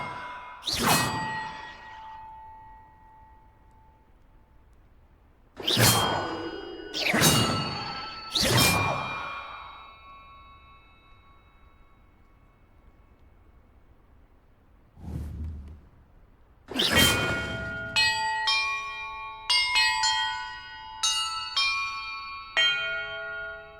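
Bells rung in Hogwarts Legacy: a series of loud metallic clangs with long ringing tails, three struck in quick succession, then a lone soft strike and a final cluster of bright chiming tones, with no talking.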